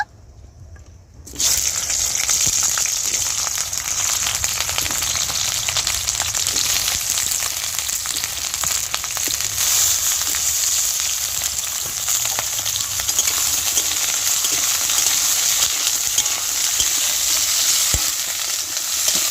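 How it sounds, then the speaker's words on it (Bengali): Okra drops into hot oil after a quiet moment, setting off a loud, sustained crackling sizzle close by that runs unbroken, with occasional stirring sounds. "তেলটা গরম হয়ে গিয়েছে, এবার ঢেঁড়সটা ভেজে নেব।"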